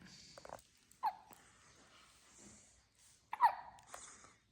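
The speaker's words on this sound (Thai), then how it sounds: "เพิ่นสะอึก" A young puppy hiccups twice, about two seconds apart: short, sharp, close-up yelps with faint breathy rustling between them.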